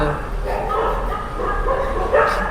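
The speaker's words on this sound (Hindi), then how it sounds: "और देखो नीचे कुत्ते भौंक रहे हैं" Dogs bark and yelp down below in a residential area, several animals calling at once, steady and fairly close, under someone talking over them.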